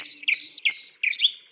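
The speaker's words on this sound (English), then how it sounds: "This is a golden oriole." A golden oriole sings nearby: several clear, loud, fluting whistled phrases with swooping pitch, closely spaced over a quiet background.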